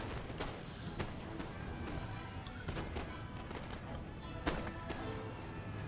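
Musket volleys crackle in a Napoleonic-era battle in the Total War: Napoleon video game, a dense, continuous stretch of overlapping rifle fire and distant artillery thumps with a few sharper reports standing out.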